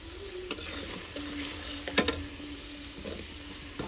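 Potatoes fry in spice paste for a duck curry, with soft sizzling under repeated spoon scrapes and a few sharp metallic clinks against the pot, heard up close and without talking.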